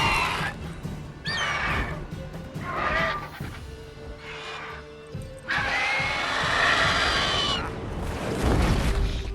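A horse in the open-world game The Witcher 3 whinnies several times in repeated, wavering bursts. The calls are close and loud over a rumbling ambient background, with a longer, brighter whinny in the middle.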